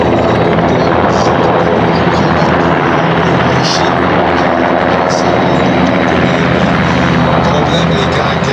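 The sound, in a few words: NH90 helicopter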